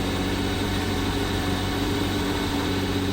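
A freshly rebuilt car engine idles at its first start, a steady, even low rumble with no stumbles, close up and continuous throughout.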